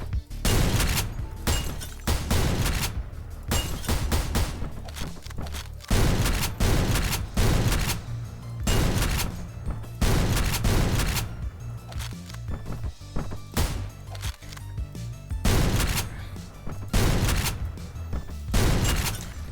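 Gunfire from a gun in the game Hunter, loud shots fired in repeated bursts with short pauses between them, each burst a rapid string of cracks, over a low background rumble.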